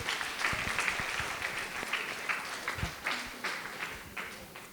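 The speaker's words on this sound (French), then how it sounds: "je pense qu'on peut l'applaudir pour le partage" A festival talk audience applauds after a speaker shares her story, a dense spread of many hands clapping that starts full and gradually thins and fades, with a few sharp individual claps standing out near the end.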